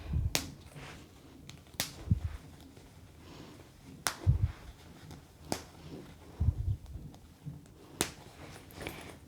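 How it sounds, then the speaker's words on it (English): Snap fasteners on a bobbin lace bag are pressed shut across the top, giving several sharp, isolated clicks spaced a couple of seconds apart, close and fairly quiet, with soft handling rustle between them. "Snaps across the top."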